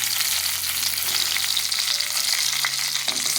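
Duck pieces frying in oil make a steady, close, crackling sizzle throughout, with a few faint pops and no voices.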